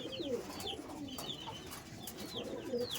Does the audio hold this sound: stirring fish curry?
no